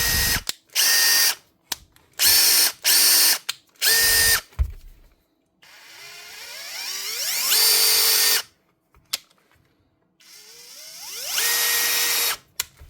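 A repaired Makita DFF083 cordless drill runs in several short whirring bursts, then revs up and winds down twice in longer runs, loud and close, with quiet gaps between.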